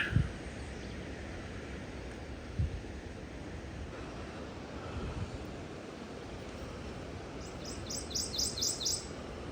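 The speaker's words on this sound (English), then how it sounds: "That's a really pretty bird. He's a bright yellow, that canary yellow bird." A bright canary-yellow songbird sings by a river, a short run of rapid chirps near the end over steady rushing water and wind.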